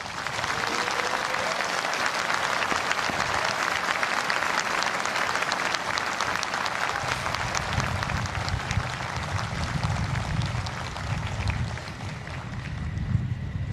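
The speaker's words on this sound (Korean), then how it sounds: "여러분, 우리 국군 장병들에게 큰 격려의 박수를 부탁드립니다." Audience at an outdoor Armed Forces Day ceremony in Korea applauds the soldiers with steady, dense clapping that holds for the whole stretch, over a low wind-like rumble that grows toward the end.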